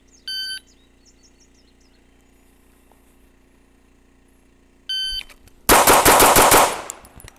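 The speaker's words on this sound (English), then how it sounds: "You saw me draw the gun, I felt like it was pointed there, and I pulled the trigger 6 times." A pistol fitted with a red dot sight fires six quick, sharp shots in a tight, loud burst at close range, preceded by two short electronic timer beeps in an otherwise quiet indoor range.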